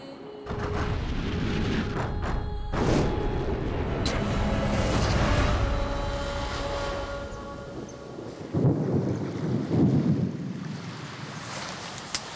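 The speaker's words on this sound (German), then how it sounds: "Oh nee, ich habe gerade schon Regentropfen abgekriegt." Rain falling outdoors during a thunderstorm, a continuous loud hiss of rain with rolling thunder rumbling through and a sharper crack near the end, no voices.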